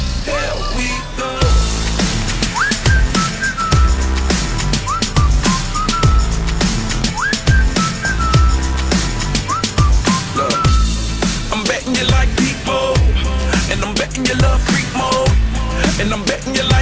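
A whistled melody rides over a steady pounding beat and bass, the whistle line repeating in short phrases throughout.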